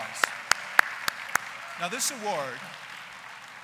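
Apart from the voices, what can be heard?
audience applause at an award ceremony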